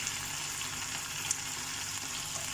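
Peri peri chicken pieces fry in a pan with an even, constant hiss of sizzling oil and a few faint pops.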